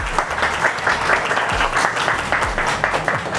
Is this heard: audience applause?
yes